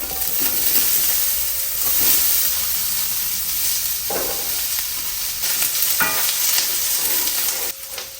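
Chopped onions fry in butter ghee in a pan at home, giving a steady close sizzle with hissing steam and occasional stirring scrapes, and no talk over it.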